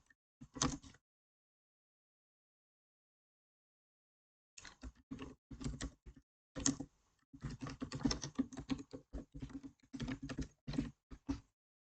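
Close, crisp typing of HTML code on a computer keyboard: a brief burst of keystrokes, a few seconds of silence, then a long uneven run of rapid clicks in quick clusters, with no speech.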